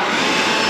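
A handheld air blower roars steadily at close range in a race track paddock, a loud continuous rushing hiss of air with no pauses.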